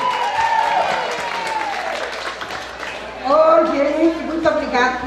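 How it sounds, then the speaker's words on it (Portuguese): Women applauding at a family reunion gathering, a steady wash of crowd clapping running beneath a person speaking over it throughout. "É das mulheres que vão aplaudir hoje."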